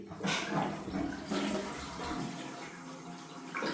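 Toilet flushing in a Thai bathroom after a new toilet is fitted, with loud rushing, gurgling water draining and refilling close by for several seconds, and no talk.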